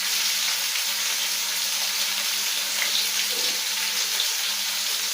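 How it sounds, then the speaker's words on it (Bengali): Fish fries in a pan with a steady, close hiss of hot oil sizzling, joined by a few small pops and a faint low hum underneath. "এই যে আমার মাছ ভাজা হতে থাক"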